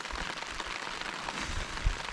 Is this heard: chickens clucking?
no